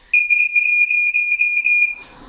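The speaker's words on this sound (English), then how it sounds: "smoke alarm do go off from time to time in this house." Smoke alarm in a house kitchen sounding one long, loud, piercing electronic beep that cuts off abruptly, followed by a short burst of rustling noise.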